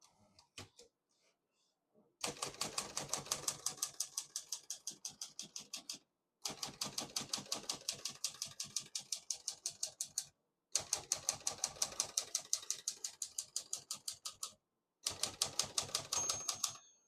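Rapid keystrokes on a 1953 Olivetti Lettera 22 portable typewriter in steady bursts, pausing briefly between lines, close and crisp with a faint margin bell ring near the end.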